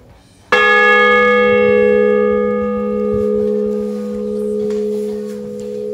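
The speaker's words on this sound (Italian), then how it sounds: "Ora procediamo con i suoni delle campane." A single large church bell strikes loudly after a brief quiet in Colma, Valduggia, Italy, its deep tone and overtones ringing and slowly fading with a pulsing hum.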